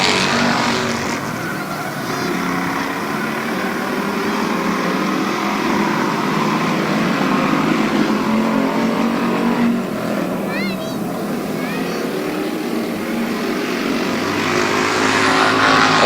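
Race cars circle the track at Barberton Raceway Park in the last laps, with engines roaring in a continuous loud drone that swells and fades as cars pass. A voice talks over the noise.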